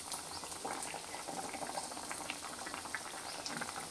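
Rohu fish curry bubbling in a pan, a dense continuous boiling patter and popping close up, steady throughout with no voices.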